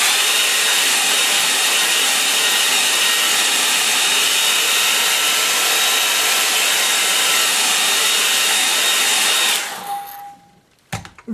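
A hair dryer blows over a freshly painted watercolour sky, giving a loud, steady, even whoosh for about nine and a half seconds before it switches off and winds down into quiet.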